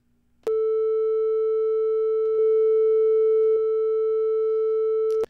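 A steady pure sine tone hums at one pitch for about five seconds, with a faint sweeping shimmer from a flanger effect in Bitwig Studio, starting and stopping abruptly.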